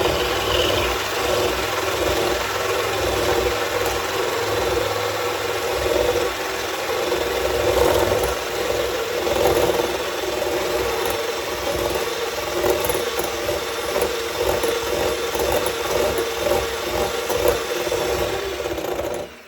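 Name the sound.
electric mixer beating egg whites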